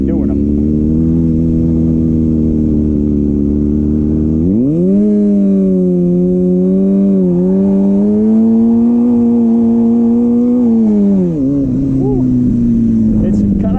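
A Kawasaki ZX6R doing a rolling burnout, the engine starting at a steady idle before revving up into a loud, sustained high drone that wavers briefly, then easing back down near the end. Close and dominant throughout.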